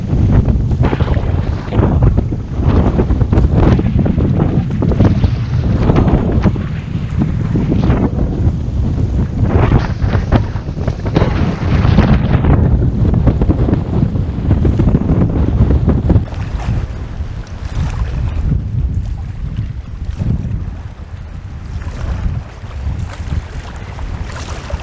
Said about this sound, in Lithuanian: Dabar oficialiai yra 19 km per valandą vėjo greitis